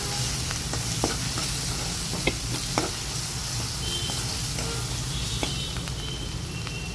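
Chili, coriander and cumin powder are stirred in a hot pan, a steady oily sizzle with scattered scraping clicks from the spoon repeating across the stretch, alone without talk.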